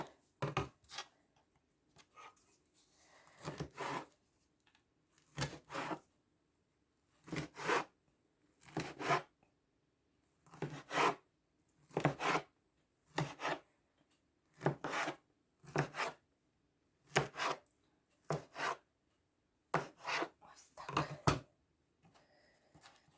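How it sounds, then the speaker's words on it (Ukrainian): A knife cuts dough into equal pieces with repeated, evenly spaced cuts, each a short scraping chop against a board, with quiet pauses between strokes. "нарізаю тепер ось так з такими однаковими шматочками."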